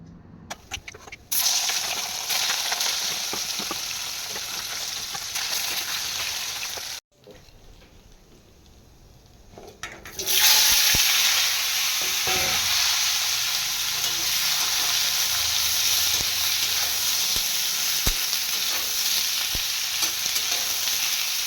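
Malabar spinach (pui shak) frying in a pan, a steady loud sizzle that drops briefly and then surges louder as more goes in, continuing hissing throughout with occasional stirring clatter.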